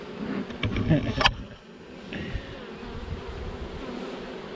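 Honey bees in a swarm trap hum in a steady, close buzz, with a brief burst of clattering handling noise during the first second or so.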